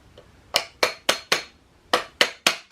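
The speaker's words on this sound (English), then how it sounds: "now I'm going to start hitting it with the hammer." Sharp, evenly spaced knocks from a mallet striking metal, seven blows in two groups with a short pause between, close and ringing slightly.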